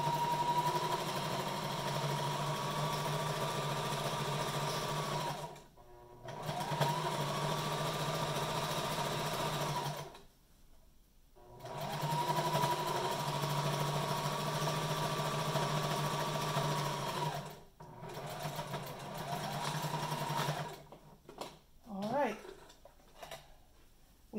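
A sewing machine stitches a fabric duckbill mask in several bursts of steady mechanical whirring separated by short pauses, with a voice speaking near the end.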